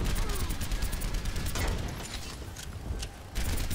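Rapid bursts of gunfire aimed at a turret in the video game Overwatch crackle loudly up close, a dense fusillade with short pauses between volleys.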